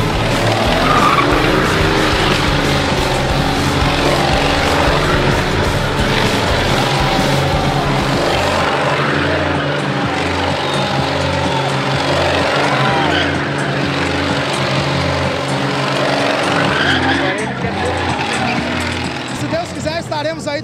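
Stunt cars perform maneuvers at a car show, with continuous loud engine roar and tire skidding washing over the whole stretch, and a crowd-like background noise under it.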